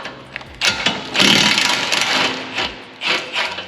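An impact wrench zaps a nut off the trailing arm of a BMW G8X M3/M4 in a short series of loud, close, buzzing mechanical bursts with brief gaps between them.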